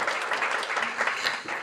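An audience at a tenth-anniversary Rare Disease Day ceremony claps in warm, continuous applause, dense and close throughout the short burst.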